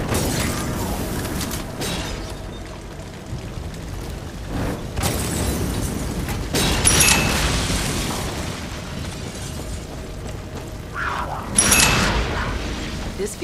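Explosions in the video game Far Cry 6, deep rumbling booms over a constant low roar, with two sharp crackling blasts and debris bursts standing out midway and near the end.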